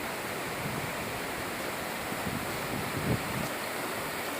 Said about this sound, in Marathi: नदीला पाण्याचा पूर भरपूर आलेला असून पूर्ण पुलावरून पाणी येऊन